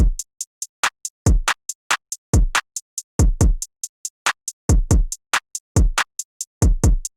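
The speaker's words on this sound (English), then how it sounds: "I've got a really basic kick, snare and hi-hat loop, which sounds like this" Basic trap drum loop of kick, snare and hi-hat, looping in a sparse repeating pattern with punchy low kicks, sharp snares and crisp hats, clean and alone.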